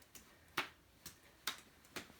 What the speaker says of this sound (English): Hand clapping or feet clapping.